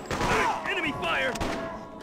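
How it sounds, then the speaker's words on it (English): Enemy gunfire in the video game Freedom Fighters, a loud, busy stretch of shots and explosive pops blended with game sounds and a raised voice across about two seconds. "Enemy fire!"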